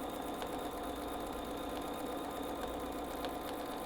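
A home sewing machine stitches fabric for a tabletop Christmas tree project, giving a steady, continuous whirring hum that runs at an even pace throughout with no talking.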